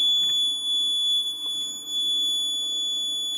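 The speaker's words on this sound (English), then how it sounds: "alcohol detected, alarm on, engine off" An alcohol detection system on an ESP32 with engine locking sounds its alarm buzzer, a steady high-pitched electronic tone held continuously over a faint background hum, with no one talking.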